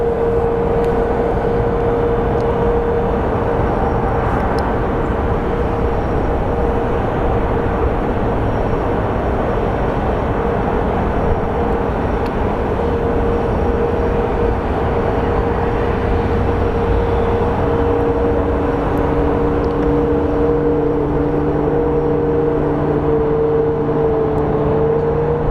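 A jet airplane taking off at Sky Harbor International Airport, a steady loud roar with a low rumble holding for the whole stretch, with no voices over it.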